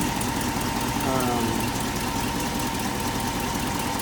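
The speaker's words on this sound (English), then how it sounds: "Runs good, idles good with that rebuilt carburetor and the Pertronix electronic ignition." A steady 1968 Ford F250 pickup engine with rebuilt carburetor idling close by, a continuous low rumble with an even, slightly uneven mechanical throb and no talking.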